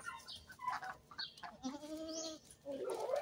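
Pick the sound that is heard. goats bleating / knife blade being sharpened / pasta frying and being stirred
goats bleating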